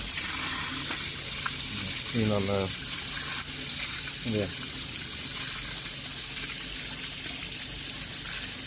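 Constant gushing water pours loudly throughout, while a voice speaks briefly over it near the middle.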